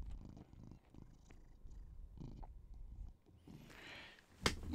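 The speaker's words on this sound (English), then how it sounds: "are an attention-needing kitty. But you're my kitty." A cat purrs up close with a low, steady rumbling, joined by brief rustles and a sharp click near the end, with no talk.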